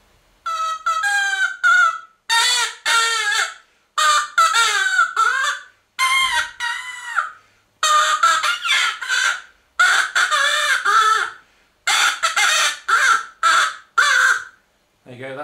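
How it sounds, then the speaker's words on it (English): A tune resembling Happy Birthday played on a blade of grass, loud, shrill and reedy bursts phrased in short squawking notes with brief gaps, alone and close. "that was a sort of happy birthday on the blade of grass"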